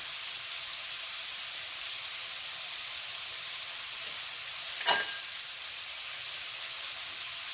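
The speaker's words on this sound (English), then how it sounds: "So the first thing what I'm doing is I'm going to brown my meat" Meat browning in a frying pan for Sicilian rice balls gives a steady, even sizzle that runs throughout. A single brief clank of a utensil breaks in partway, and nobody speaks.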